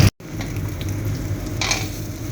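Ground beef for Greek moussaka sautés in a hot pan, giving a steady, close sizzle with stirring scrapes after a brief cut at the start.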